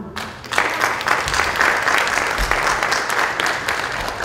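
An audience at a live Urdu-Hindi classical stage drama bursts into steady, sustained applause, loud and close, after a brief quiet start.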